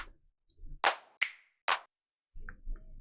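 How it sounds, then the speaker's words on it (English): Several crisp, sharp claps from a drum sample pack ring out one after another, each a short bright burst, one with a slightly ringing tail, followed by quieter low rumbling noise. "I'm gonna get a better clap"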